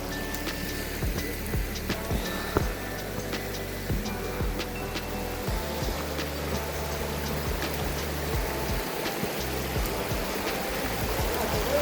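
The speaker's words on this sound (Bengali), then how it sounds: "খুব সুন্দরভাবে বয়ে যাচ্ছে ঝর্ণার জলটা।" Meltwater trickling and gurgling down a partly frozen mountain stream on a winter trek in Uttarakhand, a steady close babble broken by irregular drips and splashes.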